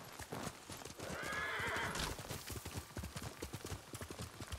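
Horse hooves clip-clop steadily through a Ghost of Tsushima game scene, with a loud whinny around the middle and continuous hoofbeats before and after it.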